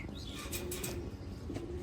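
Silver racing pigeons on a pigeon farm, with close low cooing and a few quick bursts of wing flapping over a steady background hum.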